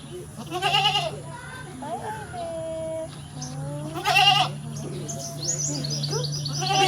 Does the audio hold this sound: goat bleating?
yes